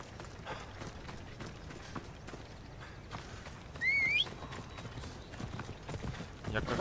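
A horse gallops in Assassin's Creed Odyssey, its hooves giving a steady, rapid clip-clop under game ambience, with a brief high-pitched cry partway through.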